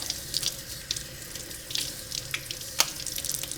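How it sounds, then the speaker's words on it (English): Tap water runs steadily over salted kelp being rinsed in a sink, with close splashing and spattering as the seaweed is washed. "The first thing I'm going to do is simply wash off the excess salt."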